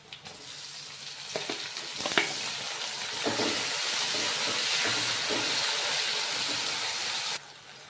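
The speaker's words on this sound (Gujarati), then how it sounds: "ડુંગળીને આપણે ગોલ્ડન બ્રાઉન કરવાની છે" Onion frying in a pan until golden brown for a biryani, a steady loud sizzle and hiss that swells and holds evenly for several seconds before cutting off abruptly near the end.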